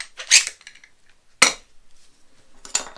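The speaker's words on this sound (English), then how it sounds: "First, I'm going to take the battery off. We can pop this off." A battery is pulled off a SainSmart cordless router, giving three sharp plastic clicks and clacks spaced about a second apart, close and fairly loud, with quiet handling between them and no talking.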